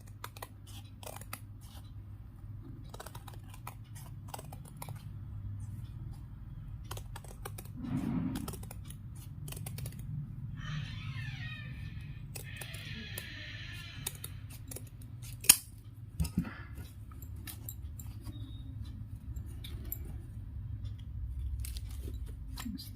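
Scissors cutting cloth for a small Laddu Gopal dress, quiet repeated snips and fabric rustles at close range, with a brief crisp slicing run midway and a few sharper clicks in an otherwise hushed room.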